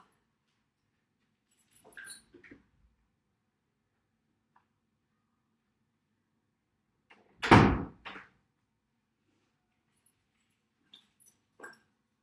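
A resistance band being shifted to the bottom of a door, heard as faint scattered rustles and taps, then one solid thump against the door midway, followed by a few soft knocks in an otherwise quiet room.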